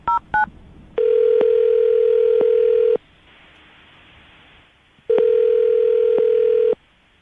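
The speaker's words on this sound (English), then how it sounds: "I'm going to dial the phone right now" Two quick dialing beeps, then a long steady ringback tone, a pause, and a second long tone, clear and close.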